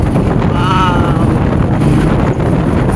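Strong wind roars steadily across San Juanico Bridge, a constant low buffeting rush against the microphone that lasts the whole moment, with a faint higher whistle briefly rising partway through.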